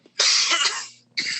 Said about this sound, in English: I cough. I apologize.